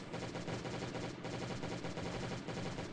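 Dense, sustained automatic gunfire from the zombie-survival video game Last Day on Earth: Survival, fired in a rapid continuous stream at steady loudness with no speech.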